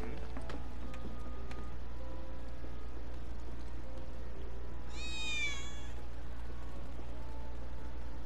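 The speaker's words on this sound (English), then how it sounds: "That was definitely a cat." A single cat meow in the Final Fantasy 7 Remake video game, rising then falling in pitch, clear over a low steady game ambience hum.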